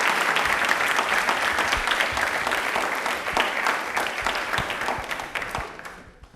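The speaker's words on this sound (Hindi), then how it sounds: "प्लीज़ एक बार जोरदार तालियां हो जाए सतीश सर के लिए" A studio audience of school students from Jaipur gives a loud round of applause for Satish sir, dense steady clapping that fades out toward the end.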